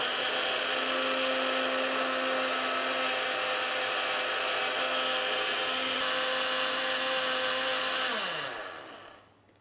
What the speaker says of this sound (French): Je vais mixer.